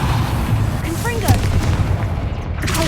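A fiery Confringo spell blast in Hogwarts Legacy, heard as a short booming burst over a steady background rumble.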